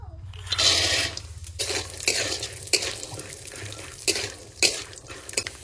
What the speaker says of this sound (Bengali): বাদাম তো ভালো করে ভেজে নিয়েছি